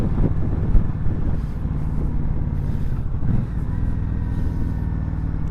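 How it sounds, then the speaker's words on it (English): Indian Scout 60 motorcycle engine running with uneven revving during imperfect rev matching, a steady low rumble with rising and falling engine pitch heard close up. "I still haven't mastered the rev matching yet. You can probably hear."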